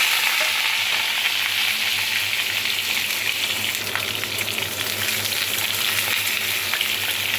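Chopped pointed gourd pieces fry in hot white oil in a kadai, a constant loud, close sizzle with a few faint scrapes of stirring and no voices.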